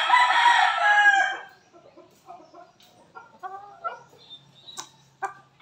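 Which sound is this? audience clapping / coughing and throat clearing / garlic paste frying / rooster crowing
rooster crowing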